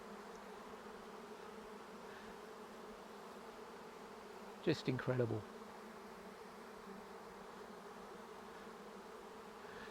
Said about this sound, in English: They'll cluster around her in a big ball of bees like this called a bivouac.